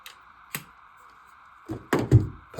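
A silicone foil pack is seated into a caulking gun: a quiet click, then a short cluster of dull plastic thunks and knocks close by, with no talking.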